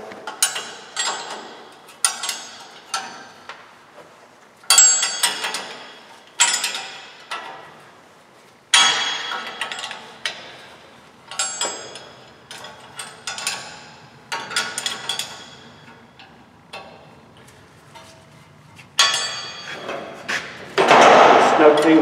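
A sledgehammer strikes a combination wrench to snug the bolts on a Toyota Tacoma wheel bearing: about a dozen loud, close metallic blows at an irregular pace, each ringing briefly before the next.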